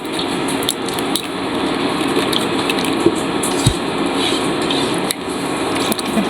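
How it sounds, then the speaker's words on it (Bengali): Semolina poured into a pot of boiled milk, a continuous rushing, bubbling pour with a few sharp knocks and clinks scattered through it and no voices. "এখন এর ভিতরে আমি সুজি ঢেলে দিলাম"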